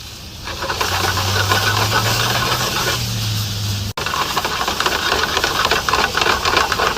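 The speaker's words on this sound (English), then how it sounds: "Oh, that's a mean sear." A steak searing in a hot pan makes a loud, continuous hiss and crackle that fills the whole stretch, broken by one brief dropout.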